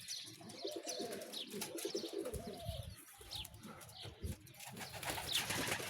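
Homing pigeons coo softly in low, rhythmic repeated phrases, fairly close, with occasional higher chirps and faint background rustle, no talking.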